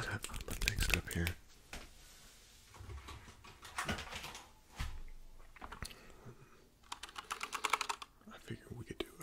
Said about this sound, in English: I figured we could do a couple keyboard sounds